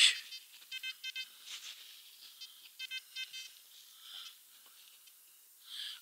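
A metal detector sweeps over a clump of soil on a treasure hunt and gives faint, high electronic beeps and warbling tones in short bursts, repeating irregularly with quiet gaps between.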